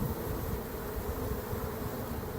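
A swarm of bees clustered in a bottlebrush tree fills the air with a steady, dense buzzing hum, close and continuous throughout with no talking.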